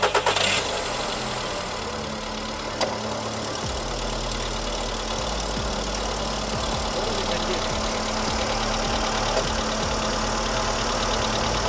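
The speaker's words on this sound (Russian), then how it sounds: "послушаем именно холодный пуск двигателя" A Volkswagen Polo sedan engine cold-starts, cranking and catching, then settles into a steady, close idle with a faint rhythmic knock running through it.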